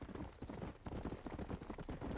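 Horse hooves clip-clop at a steady trotting rhythm in the Red Dead Redemption video game, faint and even, with soft ambient game sound beneath.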